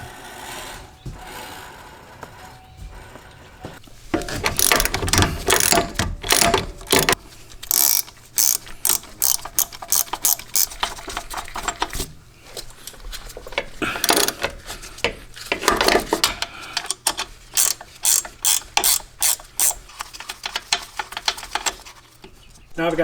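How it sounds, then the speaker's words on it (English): Ratcheting and metallic tool work on the front wheel hub bearing bolts of a 2015-2022 Chevy Colorado, close and loud, in repeated bursts of rapid clicking with short pauses between them. "Now I've got those 4 bolts loosened and removed."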